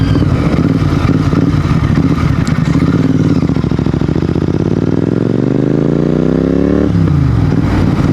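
Royal Enfield GT 650 twin revved hard nearby: a loud throbbing idle climbs into a long rising rev, then drops off sharply back toward idle.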